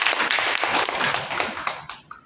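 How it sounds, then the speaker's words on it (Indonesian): Seminar audience in a hall applauding, a dense burst of hand clapping that fades out toward the end, with no talk over it. "Tepuk tangan untuk semuanya."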